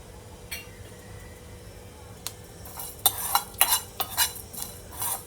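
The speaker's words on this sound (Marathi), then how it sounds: "पॅन व्यवस्थित तापल्यानंतर आपल्याला सगळ्यात पहिल्यांदा खडे मसाले भाजून घ्यायचे आहेत।" Whole spices including coriander seeds and fennel dry-roasting in a hot pan, faint rattling at first, then a run of sharp scraping stirs and clinks near the end.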